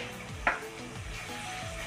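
A dried fish and tomato curry is stirred in a pan, with a single spoon scrape against the metal standing out over a soft, steady sizzle and a few quieter stirring strokes.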